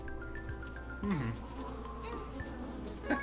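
Buzzing insects, bees, in the forest stage of the video game NiGHTS: Journey of Dreams, a steady faint drone with brief louder swells near the middle and end, alongside game sounds.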